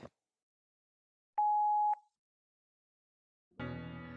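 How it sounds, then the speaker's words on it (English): A single steady electronic voicemail beep lasts about half a second in near silence, then a broad burst of noise begins. "Please leave a message after the beep."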